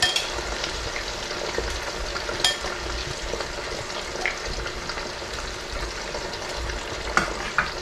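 Eggs frying in a pan, a continuous close crackling sizzle with scattered sharper pops and a couple of light utensil clicks.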